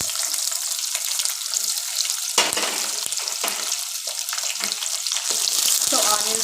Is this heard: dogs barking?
no